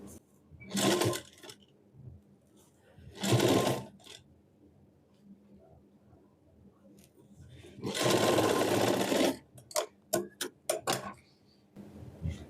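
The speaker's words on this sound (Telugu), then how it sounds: "స్టిచ్ చేద్దాం." Sewing machine stitching frills onto a lehenga, running in several short bursts and one longer run, with quick stop-start taps near the end and quiet pauses between.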